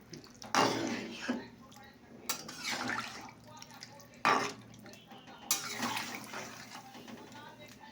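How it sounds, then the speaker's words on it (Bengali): Water sloshes and splashes into a cooking pot of curry in a home kitchen, several pours and stirring clatters coming up close amid quiet room noise. "এবার জল ঢেলে দিলাম"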